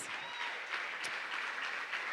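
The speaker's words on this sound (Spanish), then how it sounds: "yo quiero que usted le dé un fuerte aplauso a Dios" Congregation clapping at a church worship service honoring a prophetic arts team, a dense, even wash of applause heard at moderate distance for a couple of seconds.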